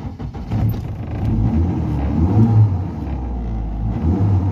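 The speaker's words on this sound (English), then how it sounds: "now we will start the car and we will hear the engine" A 1999 Mitsubishi Colt 2.0 long-wheelbase single-cab bakkie engine runs with a deep, steady rumble, loud and close, after a short start-up surge, with no talk.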